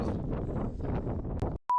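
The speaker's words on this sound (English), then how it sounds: "It's ridiculously windy." Strong wind buffets the microphone on a hilltop in gusty low roaring bursts, close and rough, cutting off suddenly before a short electronic tone.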